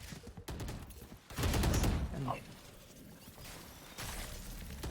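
Gunfire punching through a wall in a tactical shooter match, a burst of loud rapid shots with mechanical clatter over a steady game backdrop, a caster's voice briefly audible.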